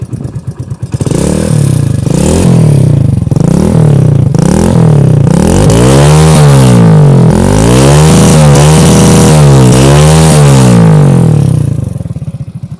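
A modified Hero Splendor motorcycle engine runs loud and close, its revs climbing and falling in a series of throttle blips after a brief start-up clatter, ending as it settles back down.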